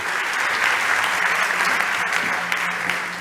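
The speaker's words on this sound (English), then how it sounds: "Please give her a warm round of applause" An audience at a startup competition applauds a contestant, a loud, sustained burst of many hands clapping evenly from start to finish.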